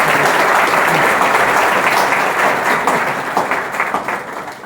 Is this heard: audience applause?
yes